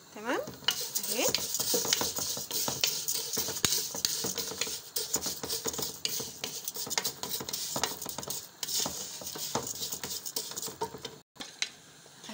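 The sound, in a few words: vermicelli frying and being stirred in strained oil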